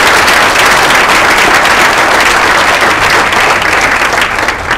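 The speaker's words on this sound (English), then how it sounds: "just one more round of applause, please, for Eileen Becker for putting this together" Loud, sustained round of audience applause at a US Senate debate in Homer, Alaska, dense clapping filling the whole stretch with no voice over it.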